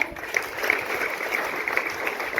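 Students clap together in a school hall, a brief, even patter of applause heard at moderate distance with a faint voice underneath.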